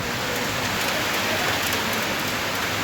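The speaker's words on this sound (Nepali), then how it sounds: "पानी असिना आयो जस्तो" Rain and hail pour down hard during a thunderstorm, a loud unbroken hiss of drops striking surfaces, with no voices.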